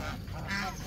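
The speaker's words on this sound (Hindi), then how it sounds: "ये वाली बत्तख को पकड़ो जरा" A duck squawks and honks loudly while being caught and lifted from its cage, a single harsh, close burst of agitated calling with a noisy background throughout.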